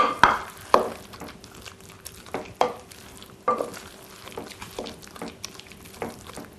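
A spinach tart mixture is stirred with sharp, irregular knocks and scrapes against the bowl over a light wet churn. It is close and moderately loud, with no voices.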